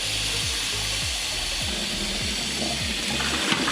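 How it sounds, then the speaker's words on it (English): Cool tap water running steadily into a pot of boiled quail eggs, a continuous loud hissing gush close by with faint knocks of eggs or metal underneath, and no one talking. "Now I'm gonna start running some cool water in them."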